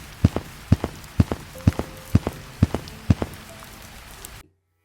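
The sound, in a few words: light rain drizzle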